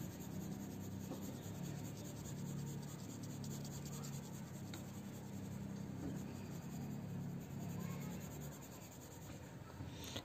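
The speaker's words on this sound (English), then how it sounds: "I'm using 2B pencil" Light shading with a 2B pencil on paper in a beginner drawing lesson: a steady, soft, close scratching and rubbing that runs continuously for the whole stretch at low volume, with faint back-and-forth stroke texture and no talking.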